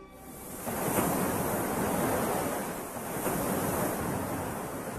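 Waves pound the coastline of Lake Tanganyika, a vast freshwater lake whose far shore is out of sight, in a steady, loud surf roar that swells and eases with no voices over it.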